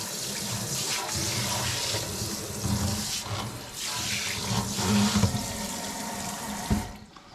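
Tap water runs steadily into a sink as it is rinsed and washed down, a close, continuous splashing rush that swells and dips with a few clunks near the end.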